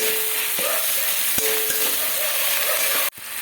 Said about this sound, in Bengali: লবণ দিয়ে একটু নাড়িয়ে দেবো টমেটো সেদ্ধটা হওয়া পর্যন্ত